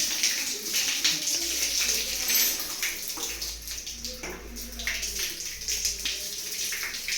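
Cold tap water runs from a 3-in-1 mixer faucet on geyser fittings, a steady close splashing flow that continues throughout with faint background noise.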